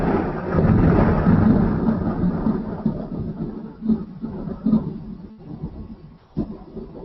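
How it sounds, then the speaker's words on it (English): Deep thunder rumbles loudly and continuously, rolling and fading over several seconds with a few sharper cracks, alone without voices. "Or thundering here"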